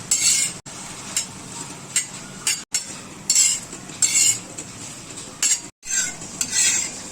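Twenty to twenty-five green chillies roasting in a pan, stirred continuously with a spoon: a run of close, rhythmic scraping strokes separated by short pauses, with no talking.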